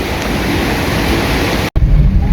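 Floodwater after heavy rain in Doha, Qatar rushes with a loud, constant wash of broadband noise, close by and partly wind-buffeted, broken by one brief cut before resuming.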